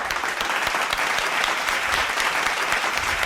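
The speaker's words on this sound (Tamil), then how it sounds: "நல்லா நல்லா நல்லா கைத்தட்டுங்க" A congregation claps during a Sunday Tamil church service, with dense, loud, sustained applause from many hands filling the room evenly for a few seconds.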